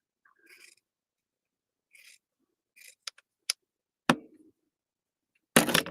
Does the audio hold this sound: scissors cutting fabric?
yes